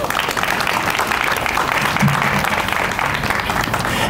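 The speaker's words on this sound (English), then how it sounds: "Let's give them a round of applause." An audience at a small business week kickoff event applauds warmly, a dense sustained clatter of clapping hands that fills the room, with a brief voice surfacing mid-clip.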